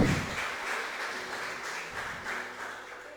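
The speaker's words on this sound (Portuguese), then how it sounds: "Pode aplaudir que é para ele é digno." A church congregation at a Sunday service claps together in a steady, moderately loud wash that eases off slightly toward the end, with no voices over it.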